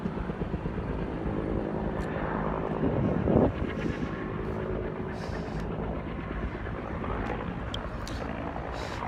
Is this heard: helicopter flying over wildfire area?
yes